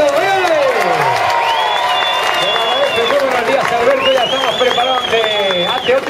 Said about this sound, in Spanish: a ver si le dedicamos un aplauso más fuerte